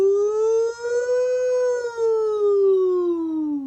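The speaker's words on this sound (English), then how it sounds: "A siren wailed just then." A single fire engine siren wails steadily, rising slightly then falling in pitch, loud and close with no talking.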